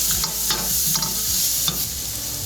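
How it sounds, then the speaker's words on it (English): Tomato sauce for fried pumpkin balls is stirred in a hot pan, a spoon scraping in several close strokes over a continuous sizzle, with no one talking. "Stir it some more."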